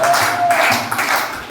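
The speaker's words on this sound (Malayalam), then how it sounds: "ഇനി കൈയടിച്ചേ" At the Iqbaliya 2024 inauguration event, a crowd claps along to a chant in quick, loud, rhythmic hand claps, with a chanting voice running underneath.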